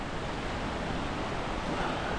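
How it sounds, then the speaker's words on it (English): A waterfall on the Wahclella Falls trail in the Columbia River Gorge, a multi-tiered falls, gives a steady, dense rushing roar that holds evenly throughout without pause. "Here's that waterfall we couldn't see through the trees."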